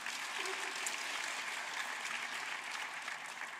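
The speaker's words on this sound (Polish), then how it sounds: "Brawa dla nich." A crowd at a student activity awards gala applauds a student economics club, a continuous, even roar of clapping hands that stays steady and fairly distant for several seconds.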